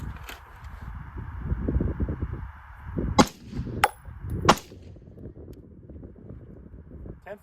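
A 10.5-inch rifle fired unsuppressed outdoors, with two sharp, loud cracks about a second apart, plus a fainter third snap between them, over steady wind rumble and a faint background hum.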